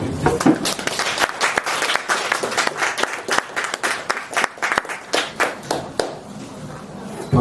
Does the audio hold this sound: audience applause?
yes